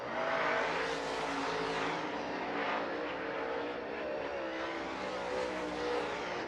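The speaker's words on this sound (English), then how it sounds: "Cars up to speed now as we begin Group B qualifications." Late model race cars roar at speed during Group B qualifying at Off Road Speedway, a loud, steady engine drone rising and falling as cars sweep past, with no talk over it.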